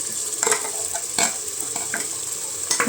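Ginger garlic paste fries in a pan for a Thai-rice mushroom biryani, a bright continuous sizzle broken by several sharp stirring scrapes and spatters, close and loud.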